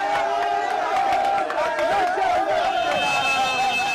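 An ecstatic crowd at Agbogbloshie in Accra welcomes the rapper Maccasio, a dense roar of cheering and shouting voices with excited calls rising over the mass of sound, loud and close throughout.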